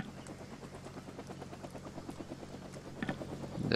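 A helicopter in a Vietnam War tactical video game flies with a faint, steady rhythmic rotor thump and engine drone, growing slightly louder at the end, with no talking.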